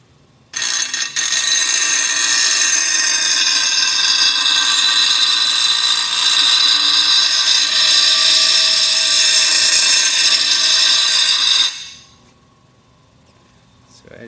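A power grinder sharpens a steel lawn mower blade with a loud, steady, harsh whine that holds for about eleven seconds, then cuts off and winds down into quiet.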